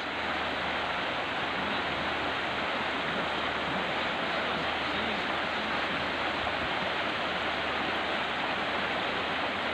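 A strong river current rushes past at a fishing spot in Cavite, a loud, dense, unbroken roar of flowing water that holds steady and close throughout with no voices.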